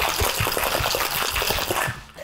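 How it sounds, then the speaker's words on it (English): A cocktail with blue-tinted liqueur shaken hard with ice in a large metal shaker tin gives a steady, close rattling churn of ice that stops abruptly near the end. "Add our cocktail. Give it a nice hard shake."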